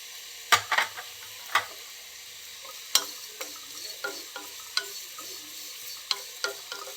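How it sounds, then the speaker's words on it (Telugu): Small bitter gourd frying with fresh grated coconut in a pan for a masala fry: a soft, steady sizzle broken by scattered spatula scrapes and clicks against the pan, close up, with no talking. "ఇప్పుడు ఇవి ఇందులో మనం కొబ్బరి వేసేసుకొని కొంచెం వేయించుకుందామండి."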